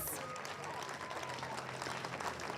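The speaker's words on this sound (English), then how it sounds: "give them a round of applause" Audience at a high school ribbon-cutting ceremony applauds the leadership team standing on stage, a dense, even wash of many hands clapping that holds steady throughout at a moderate distance.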